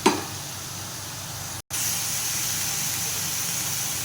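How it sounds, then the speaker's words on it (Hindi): Chicken bharta mixture frying on a hot tawa gives a steady, even sizzle with no voices. A brief gap cuts the sound near the middle, then the frying picks up again at the same level. "थोड़ा सा इसको भूनते हैं।"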